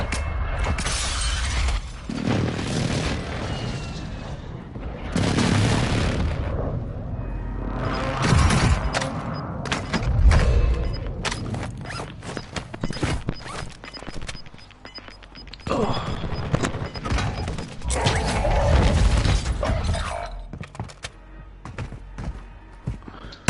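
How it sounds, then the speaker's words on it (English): An airstrike in a battle royale video game with a Gulag sends loud, repeated explosive blasts and crashing debris bursts, with rumbling clatter between the impacts. "Friendly airstrike on the way."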